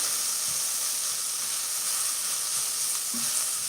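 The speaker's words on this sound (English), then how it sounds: "Flip these guys over. We'll sear off that last little bit" Meat sears in a hot pan after being flipped, giving a loud, close, unbroken frying hiss that holds steady throughout with no voices.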